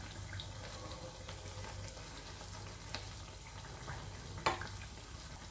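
Pitha frying in a pan, a quiet, steady sizzle of hot oil with a faint crackle and one brief clink near the end.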